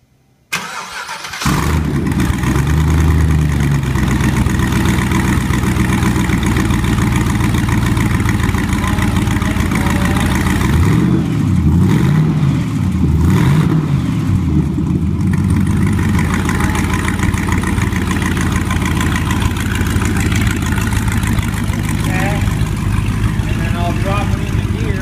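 Speartech LS9 V8 crate engine package cranks briefly, fires and settles into a loud steady idle with a brief rise in revs midway, running close and continuous throughout.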